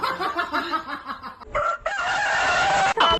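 A rooster crows loudly and close by, a long sustained call after some clucking, with the crow dominating the second half of the short clip.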